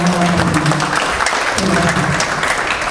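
An audience at the inauguration ceremony of the Bandung city tourism promotion board claps in a dense, loud, sustained burst, with a voice speaking over it.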